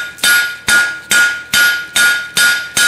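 Hot steel struck repeatedly with a hammer on the edge of an anvil to flatten a fishtail end, seven loud, ringing blows at a steady rhythm, close by with no talk.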